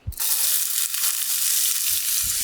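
Onions tipped into hot clarified butter set off a sudden, loud, continuous sizzle that holds steady to the end, with a soft thump at the start and no talking.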